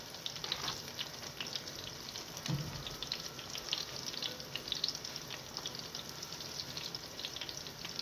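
Eggplant fries in hot oil with a soft, even hiss and faint crackle throughout, fairly quiet and close, with no talking.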